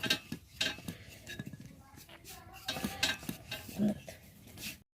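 A rolling pin works flour-dusted nimki dough flat on a board in a home kitchen. Close, irregular thumps, knocks and scrapes repeat as the pin rolls back and forth, with no speech.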